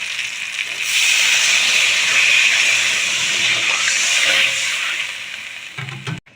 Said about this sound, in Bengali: এখন আমি অ্যাড করে দেব জল।